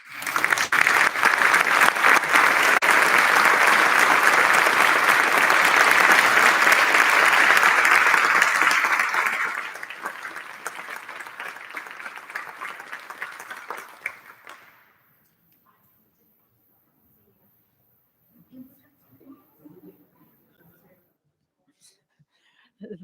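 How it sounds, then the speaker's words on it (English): Sustained, loud applause from a concert audience honoring high school string students from a solo and ensemble festival. It holds steady for about ten seconds, thins out, and stops near fifteen seconds, leaving near-silence with a few faint rustles. "audience, will you please applaud for them?"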